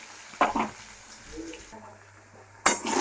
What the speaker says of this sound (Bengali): দিয়ে এটা ভালো করে ভেজে নেবো।